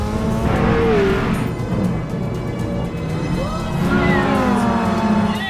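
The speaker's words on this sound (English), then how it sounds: "a 20-minute race at Silverstone in the Nissan 370Z" Nissan 370Z race cars compete in a 20-minute GT Academy race at Silverstone. Loud, continuous engine roar rises and falls through the gears, with pitch sweeping up and down as the cars pass.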